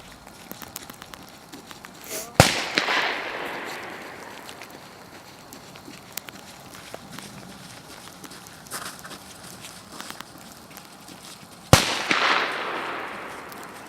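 Two sharp, loud gunshots about nine seconds apart ring out across an open outdoor space during a dog temperament test, fired behind a dog, each trailing off in a brief echo over quiet background noise.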